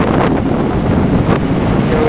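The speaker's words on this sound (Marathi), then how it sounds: "लाटा लाटा झाला" Steady rushing roar of sea waves mixed with wind buffeting the microphone during deep-sea net fishing from the shore, continuous and loud with no clear breaks.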